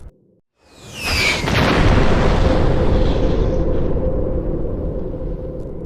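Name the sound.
explosion of a BrahMos missile strike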